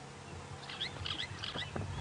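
A bird calling in the bush of the Sabi Sand reserve, South Africa, during a morning safari drive: a few short chirping notes repeating over a steady engine or wind rumble, no talk.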